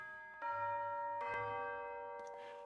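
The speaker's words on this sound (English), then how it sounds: "I decided I was going to add some tubular bells as well" Tubular bells in an orchestral film score ring out sustained metallic notes picked from a chord, struck a few times and left to decay with a long shimmering resonance over soft low accompaniment.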